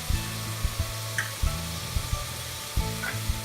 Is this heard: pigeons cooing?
no